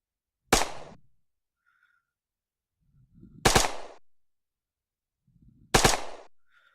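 Three separate sharp gunshots about three seconds apart in the VR shooting game Weapon Master, each a loud crack with a brief decaying tail and a faint low rumble just before.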